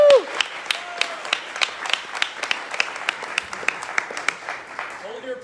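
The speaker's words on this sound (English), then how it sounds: "Hold your applause, everyone." Audience applause for a guest lecturer at a 100th anniversary history lecture, a dense run of many hands clapping close and steady, with sharp individual claps standing out, tapering off as a voice starts at the end.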